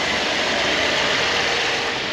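A Chevy Equinox 3.6L engine idles steadily while warming up, a constant mid-level mechanical hum and whir heard up close under the open hood.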